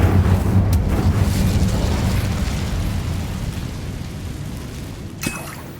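A fire spell cast in Hogwarts Legacy, heard as a loud, dense rumbling burst of flame that keeps roaring and slowly fades over several seconds, with a brief crackling pop near the end.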